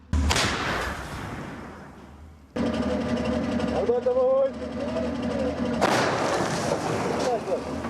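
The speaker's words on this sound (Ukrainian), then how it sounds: "Від пострілів земля здригається" Three heavy booming artillery blasts in Ukraine, each rumbling off into a long decay that shakes the ground, with people talking in between the shots.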